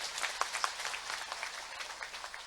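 Crowd at a political rally in Jharkhand applauding, a dense, steady patter of many hands clapping at moderate distance, with no speech over it.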